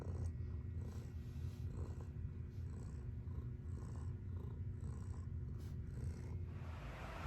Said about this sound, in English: Kitty purr.